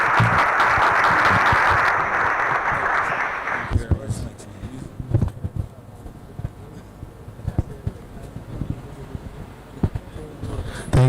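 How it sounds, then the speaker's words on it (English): Audience applause at the launch event for skin laser machines, a loud dense burst of clapping for about four seconds that then thins into scattered individual claps with room noise. "A round of applause for these two wonderful machines."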